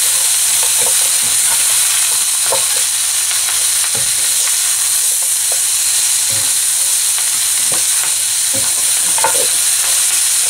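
Salt and chilli squid is tossed in a hot pan, a loud constant sizzle and hiss with quick spatula scrapes and taps repeating across the whole stretch, close and without speech.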